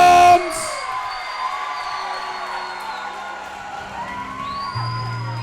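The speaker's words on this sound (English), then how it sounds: "you will hear the crowd" A crowd cheers and whoops at a local RFO MMA event in Mansfield, Ohio as a fighter makes his entrance, a loud sustained roar filling the arena with scattered shouts rising and falling throughout.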